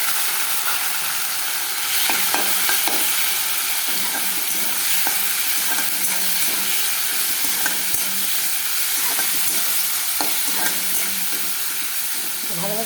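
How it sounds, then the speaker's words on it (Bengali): Chicken pieces fry in a little oil in a home kitchen pan for chicken chops, giving a steady, close sizzle with intermittent scrapes and stirring clatters throughout. "এখন এই যে চিকেনটাকে আমি একটু ভাজা ভাজা করে নিব"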